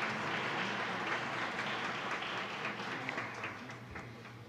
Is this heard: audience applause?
yes